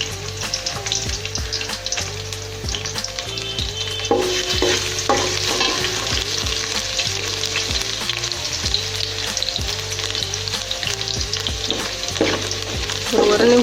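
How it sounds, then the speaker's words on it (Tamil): Garlic and bay leaf fry in hot oil for mandi biryani, giving a steady close sizzle broken by repeated scraping and clinking from stirring throughout. "இதில் நான் எடுத்து வச்சுருக்கிற பே லீஃப் சேர்த்துட்டு பூண்டு கொஞ்சம் நேரம் நம்ம ஃப்ரை பண்ணிக்கலாம்."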